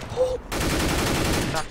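Video-game gunfire from shots fired through smoke: a short, dense burst of rapid shots following a brief quieter moment, loud and close, with no speech.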